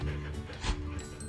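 A dog gives a short, close whimper with small yips, a brief high whine that lasts little more than a second.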